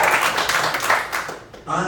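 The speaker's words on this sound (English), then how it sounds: "I'll hold for applause." Brief clapping from a gala audience, a short burst lasting under two seconds.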